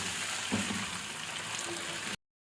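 Chicken frying in a karahi, a steady hiss and sizzle of cooking juices filling the short stretch before it cuts off.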